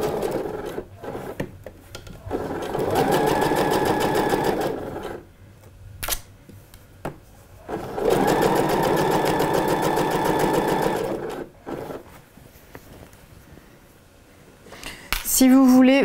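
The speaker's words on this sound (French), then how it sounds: "la ligne qu'on est en train de coudre" A sewing machine stitches a seam on Budelli shorts in two long steady runs separated by pauses, close and loud, with someone talking quietly between and around the bursts.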